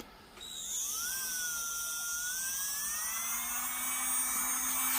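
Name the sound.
I Gel Beauty nail e-file running in reverse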